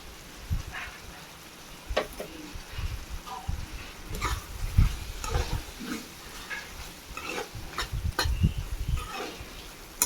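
Yellow pumpkin poriyal stirred in a pan with ground coconut and fennel, a low sizzle under irregular scraping and tapping strokes of the spoon, some louder clacks among them.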